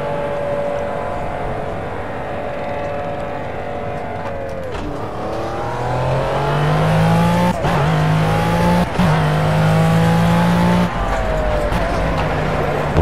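A McLaren F1 GTR Long Tail race car's V12 engine in Project CARS drones and climbs in pitch through gear changes, with brief dips between shifts, loud and continuous.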